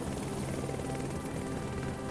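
Continuous loud helicopter rotor and engine roar from a coastal fisheries patrol over Haida Gwaii, dense and unbroken, heard from close by for the whole moment.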